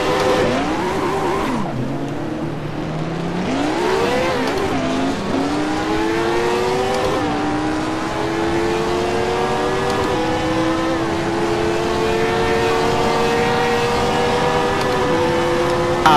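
High-pitched late-1960s Formula 1 car engines in a video game, including a Lotus Type 49, scream and rise through gears, one car accelerating with shifts, others whining in the background; continuous and loud, no talking.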